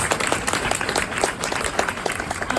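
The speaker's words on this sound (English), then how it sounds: "Come on, round of applause for" An audience at a Tegan and Sara event in Toronto applauds for teachers: dense, continuous clapping from a crowd, fairly loud and sustained throughout.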